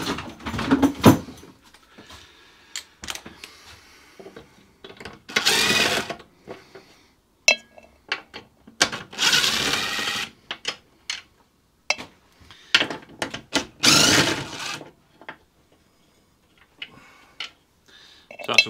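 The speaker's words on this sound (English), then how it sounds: "Let me change over the impact now because it will now take an impact if I can find my impact gun." An impact gun removes the axle bolts on a Hayter Ranger 53 lawn mower, giving several short, loud rattling bursts separated by quiet gaps in a workshop.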